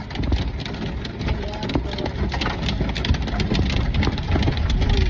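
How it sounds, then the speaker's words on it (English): Heavy rain and hail pound a car driving through a severe thunderstorm, a loud, dense roar of drumming impacts over the engine and road noise, steady and continuous throughout. "It's a really bad thunderstorm."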